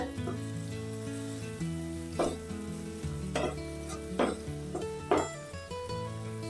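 Spices frying in a pan for a Karwar-style clam sukhe, a close, continuous sizzle with repeated scraping stir strokes of a spoon against the pan.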